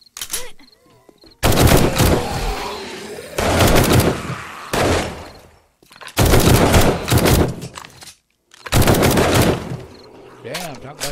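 Guns fire at an enemy in 7 Days to Die: several long bursts of rapid, loud, close shots separated by brief pauses, with a voice heard faintly at the start and end.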